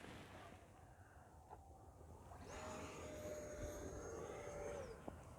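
An E-flite F-15 64mm electric ducted-fan RC jet flies past outdoors, a steady whine that swells and holds for several seconds before fading slightly, over broadband wind and field noise.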